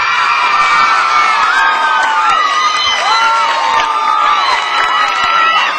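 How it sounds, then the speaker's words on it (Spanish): Loud studio audience cheering and whooping for the duo Los Pepe on a Dominican TV show, a dense crowd roar with shouts rising over it, continuous from start to end. "vamos a dar un fuerte aplauso a los dos más pegados del país"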